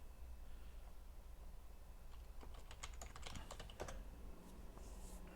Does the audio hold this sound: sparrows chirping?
no